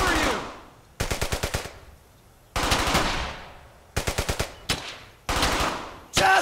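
Bursts of rapid automatic gunfire from Brothers in Arms Hell's Highway, several loud close volleys separated by short pauses, with a few shouted voices between them.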